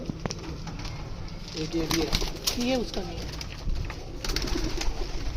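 Fancy goley pigeons held in a loft coo in soft, rolling bursts near the middle of the stretch while someone talks over them close by.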